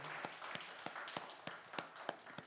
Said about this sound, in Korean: 우리 하나님 앞에 감사의 영광의 박수를 올려드립시다